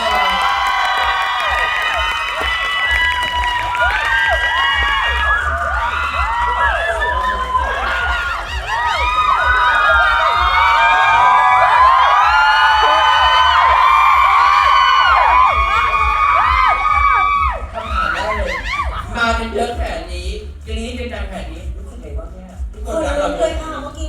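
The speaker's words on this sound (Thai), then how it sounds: "แล้วก็ปรบมือให้กับคนสวยเรา" Crowd at a birthday fan meeting screams, cheers and whoops loudly and continuously for long stretches, with some clapping mixed in, then settles as an amplified voice speaks over scattered shouts.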